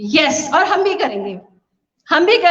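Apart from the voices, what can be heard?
No everyday noise stands out behind the speech.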